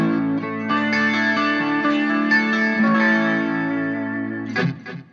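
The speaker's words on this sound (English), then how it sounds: "We've added some chorus and delay." Electric guitar through a Vox VT20X Valvetronix modelling amp with chorus and delay added, sustained lightly distorted chords ringing with shimmering modulation, then a short strum at the end.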